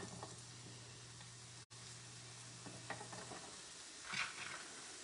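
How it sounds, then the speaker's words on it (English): Onions tossed into olive oil on an electric griddle sizzle and crackle softly and steadily close by, with a brief clatter near the middle and a louder hiss swelling toward the end. "I'm gonna throw these onions in here"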